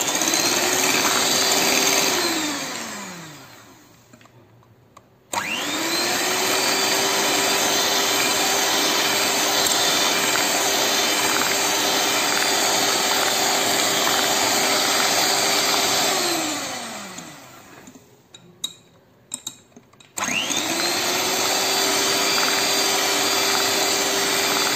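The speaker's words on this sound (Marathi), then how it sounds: "आता हे आपण बीट करणार आहोत." An electric beater whips cream with ice cream batter, a loud whirring motor hum that runs steadily, winds down and stops twice, then restarts, close by with no voices.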